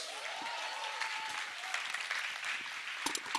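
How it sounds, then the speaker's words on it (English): A crowd applauds at a Hindi film music launch event, a dense, fairly faint wash of clapping heard from a distance that rises briefly near the end. "I think that genius deserved a bigger round of applause."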